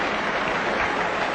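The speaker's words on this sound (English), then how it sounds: "The Pittsburgh crowd going wild." A Pittsburgh baseball crowd at the 1960 World Series cheers and claps wildly, a dense, continuous roar of applause with no pauses, heard at some distance on an old broadcast recording.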